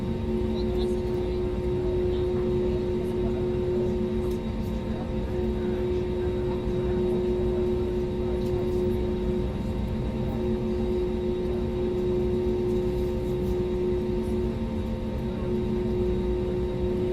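Airbus A320neo engines roar on takeoff from London Southend in Microsoft Flight Simulator, a loud, steady, unbroken drone with sustained humming tones that never fades.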